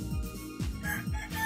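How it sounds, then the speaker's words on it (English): Roosters crowing in the background, their calls faint and distant, repeating a few times over a short stretch behind a quiet indoor setting. "You're probably hearing the damn roosters in the background."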